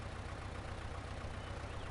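A tractor engine idles in the off-road driving game Spintires MudRunner, a steady, dense, quiet mechanical drone with no break, heard alone.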